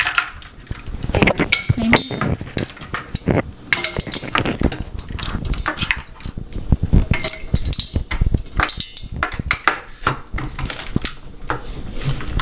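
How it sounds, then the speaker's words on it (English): Ice tumbles into a bowl of boiled eggs during Greek Easter cooking, giving a dense run of close clinks, rattles and crunchy knocks that last throughout, with a brief spoken word. "Adding some ice."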